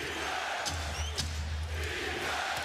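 Crowd noise at a Celtics–Lakers NBA Finals game in 2008, a busy, steady roar of the arena crowd with brief sharper peaks, heard under a commentator's voice.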